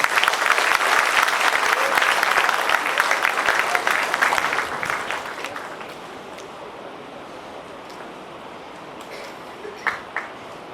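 An audience applauds at a Diwali celebration prize-giving, loud dense clapping for several seconds that fades away by the midpoint, leaving a quieter room with a few stray claps.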